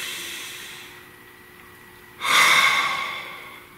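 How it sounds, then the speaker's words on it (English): A single deep breath taken close to the microphone rises suddenly as a loud, airy inhale-like rush after a quiet stretch of faint background hum. "Everybody, take a nice deep breath."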